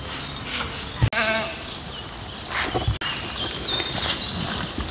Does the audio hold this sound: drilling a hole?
no